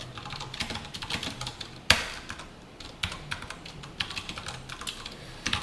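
Code is typed on a computer keyboard during a React programming lesson, with close, clicky keystrokes coming in quick bursts and a sharp louder key hit, and no talk over them.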